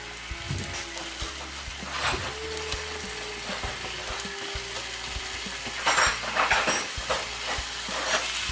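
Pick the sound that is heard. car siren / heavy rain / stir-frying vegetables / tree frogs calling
stir-frying vegetables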